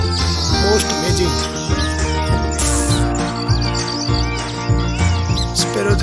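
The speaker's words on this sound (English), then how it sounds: "Sparrows Nest with peacock voice." Sparrows chirp busily around their nest at sunrise, a dense, unbroken chatter of overlapping calls layered over a steady tonal backdrop.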